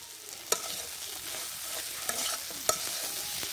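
Chepa shutki, a dried fish, fries with spices in a pan under a soft continuous sizzle, while a spoon stirs and scrapes in occasional sharp clacks against the metal.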